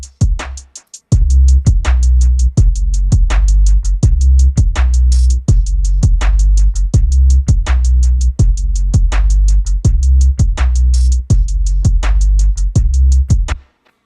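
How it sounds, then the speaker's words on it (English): A hip-hop style beat built from a deep bass line layered over a drum pattern of hi-hats and percussion loops, with steady repeating kicks and hats driving loud and continuous, no voices. "when you mix the bass, it sounds like this."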